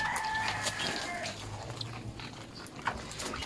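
Farmyard roosters crow and cluck, several birds calling near and mid-distance while a dog also sounds, a busy outdoor backyard scene with no one talking.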